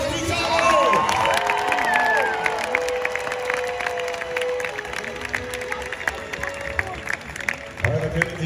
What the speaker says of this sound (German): Und jetzt könnt ihr zeigen, wie laut ihr jubeln könnt